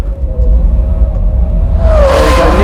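A Porsche 2.7 RS on a race track, engine note rising as the car accelerates and sweeps past close by, a brief rising whoosh at the end.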